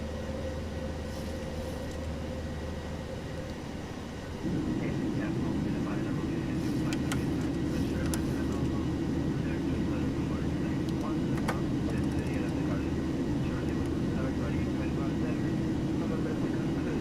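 Ryanair Boeing 737-800 jet engines climbing after takeoff from Manchester bound for Prague, a dense, steady cabin roar that swells louder partway through and holds, with faint talk beneath.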